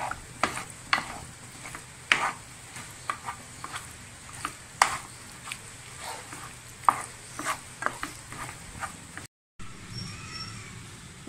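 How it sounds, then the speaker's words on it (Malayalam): A spoon stirs mango pickle with sesame oil in a pan, giving soft scraping strokes and light clinks at an irregular pace over a faint sizzle, followed by a brief pause and quiet room noise. "പിന്നെ അല്പം നല്ലെണ്ണ കൂടി ചേർത്തെടുക്കാം. ആ നന്നായി ഇളക്കി കൊടുക്കാം."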